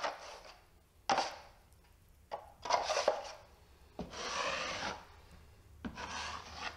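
A trowel or knife spreads joint compound mud in a skim coat over a damaged wall, giving repeated scraping, rasping strokes in close bursts, each lasting about a second, with short pauses between passes.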